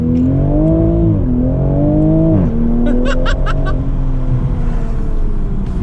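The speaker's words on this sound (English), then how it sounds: "I really want you guys to be able to hear the pops and cracks of the exhaust" A tuned 2020 Toyota Supra exhaust revs and accelerates with a deep, rising drone, then a quick burst of sharp pops and crackles before settling into a steady roar.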